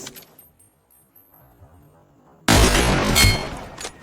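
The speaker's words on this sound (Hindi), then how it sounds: "ये देखो पट से हेडशॉट पड़ा उसको।" Gunfire from a mobile shooter game, with faint clicks and quiet game sounds followed by a sudden loud burst of shots and impact noise that continues for the last second and a half.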